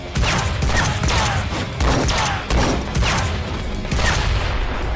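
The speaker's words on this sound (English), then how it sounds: "And the Joestar stand punches being gunshots." Dense bursts of rapid gunfire-like impacts, loud and close, coming in several rolling volleys with brief gaps between them; rapid stand punches from JoJo's Bizarre Adventure rendered as gunshot sound effects.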